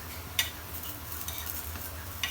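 Raw banana (vazhakkai) slices fry in a pan with a low, steady sizzle and a couple of sharp clicks from a spatula turning them.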